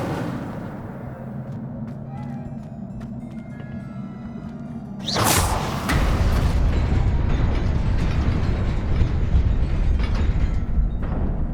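Incendio fire spell cast in the Hogwarts Legacy video game: after a quiet stretch, a sudden bright whoosh-burst erupts, followed by a sustained loud roaring crackle that continues to the end.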